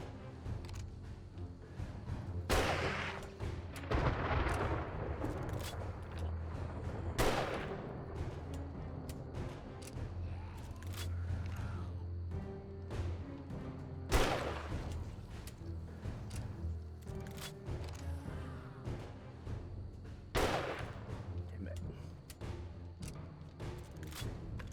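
Gunshots in the video game 7 Days to Die ring out as sharp, isolated cracks spaced several seconds apart over a low ambient rumble, loud and close with no talking.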